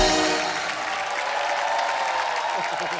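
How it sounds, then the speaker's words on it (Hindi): A studio audience at a comedy talk show breaks into loud, dense applause that continues unbroken and eases off only slightly toward the end. "अजय पाजी के लिए जोरदार तालियां"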